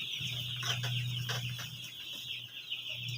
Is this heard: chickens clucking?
yes